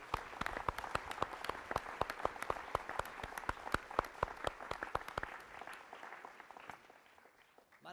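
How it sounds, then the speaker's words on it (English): An audience at an annual steak dinner gives a round of applause for school leaders. The claps are fairly distant and distinct, with individual hand strikes audible, and they thin out and fade after about five seconds. "One more round of applause for these amazing leaders in our schools."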